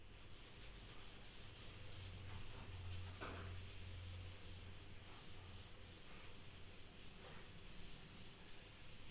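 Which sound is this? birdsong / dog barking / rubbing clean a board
rubbing clean a board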